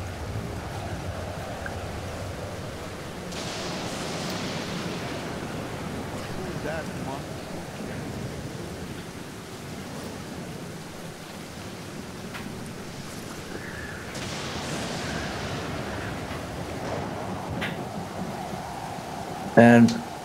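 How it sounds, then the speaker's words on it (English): Ocean waves roll and wash in the survival video game Stranded Deep, a faint, steady surf with swells rising and falling, while people talk now and then over it. "It's waves, man."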